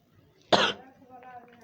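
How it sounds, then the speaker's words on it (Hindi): One sharp, loud cough bursts out close to the microphone, followed by a short trailing exhale and faint murmured voice. "खांसी हो गया थोड़ा"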